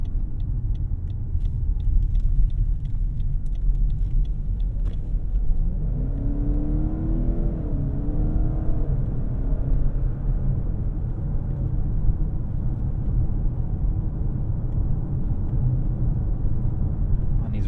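A 2024 Lexus LS 500h AWD hybrid sedan travels over rough chip-seal and blacktop county roads, giving a steady low road rumble and tire noise with a faint rising motor whir partway through, heard from inside the cabin.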